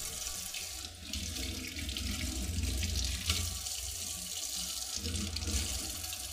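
Coffee maker filter parts from a Mondial machine are rinsed under a steady stream of running tap water into a sink, a continuous close splashing rush with no talk.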